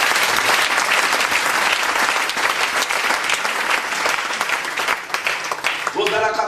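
A church congregation applauds and cheers to acclaim the Lord, loud sustained clapping with voices rising in the crowd, a voice breaking through near the end.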